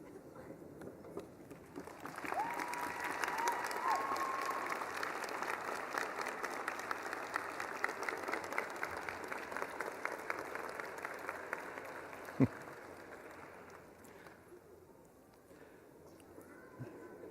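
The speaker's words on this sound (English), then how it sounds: "give them a round of applause as the people who supported you through this process" Steady, dense applause fills a spring college commencement hall as graduates clap for their families and supporters, a broad even wash of many hands that fades toward the end, with a brief voice and one sharp knock partway through.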